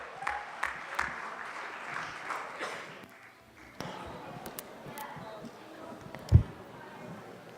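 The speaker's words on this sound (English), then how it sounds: "One more round of applause" Audience applause during a night of music celebrating a life rises loudly at first, fades within a few seconds, then resumes as lighter scattered clapping with a thump near the end.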